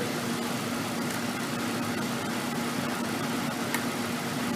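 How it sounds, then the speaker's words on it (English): A Ford Ranger's engine idles steadily during a transmission fluid check, a constant low hum with a faint rattle underneath, close by and unbroken, no talking. "the reason you want the engine running is because it is a dynamic level that we are checking"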